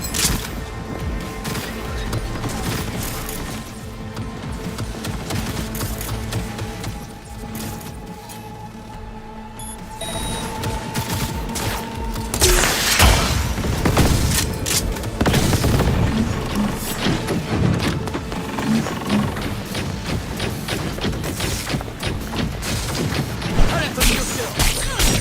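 Automated enemy turret fire in Cyberpunk 2077 combat, bursts of rapid gunshots and booms crackling over a continuous noisy battle backdrop, growing denser and louder in the second half.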